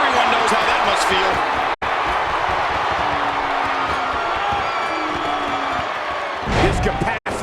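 A crowd cheers in the WWE 2K17 wrestling video game, a constant arena roar that swells near the end, with commentators talking over it throughout.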